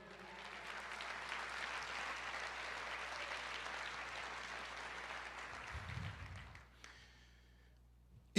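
A church congregation applauds together in a sustained, dense wash of clapping that holds steady for several seconds before dying away abruptly, leaving near silence.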